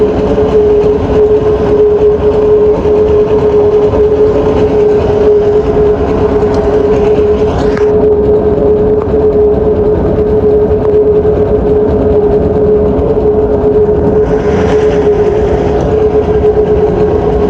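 A rail trolley carrying concrete for RCC roof casting runs with a loud, continuous mechanical rumble and a steady hum, close and unbroken for the whole stretch, with brief brighter squeals midway and near the end.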